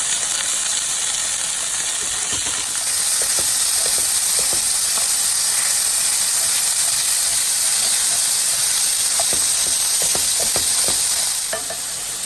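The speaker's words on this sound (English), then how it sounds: "So we're gonna saute the sausage so it's golden brown on all the sides." Casing-free sausage sautéing in a pan with olive oil and anchovy paste, a loud continuous hiss and sizzle with occasional stirring clicks and scrapes, heard alone.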